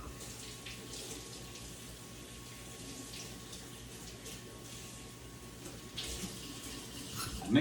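Tap water runs steadily into a kitchen sink while vegetables are rinsed, a soft continuous splashing hiss at low level with a slight swell near the end.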